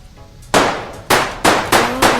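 Gunfire in a Roblox granny-killer survival game: five sharp, loud metallic shots in a quick irregular sequence, each with a short ringing tail, no talk over them.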